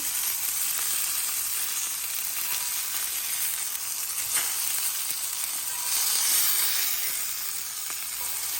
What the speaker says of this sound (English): we've been searing for a couple of minutes